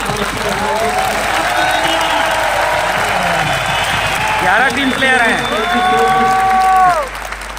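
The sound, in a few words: audience applause for the team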